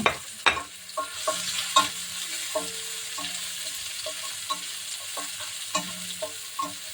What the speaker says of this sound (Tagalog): And ilagay na natin yung red onion. Yan, gisa na natin.